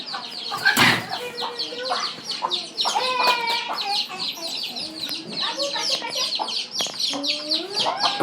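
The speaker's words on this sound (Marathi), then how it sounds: "या कोंबड्या आमच्या मामाडीच्या इथल्या" Chickens at a village farm cluck and squawk in overlapping bursts close by, with a sharp wing flap early on and continuous fowl chatter throughout.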